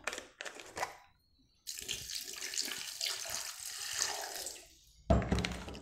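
Water is poured from a tap or jug into a mixer jar holding fresh coconut, green chilli, garlic and coriander, coming in short splashy bursts with a longer steady pour and a brief gap between.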